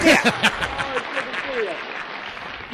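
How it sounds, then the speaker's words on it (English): A studio audience applauds during an episode of The Honeymooners in a brief burst of clapping, with voices talking over the applause as it tapers away. "I like how they applaud again"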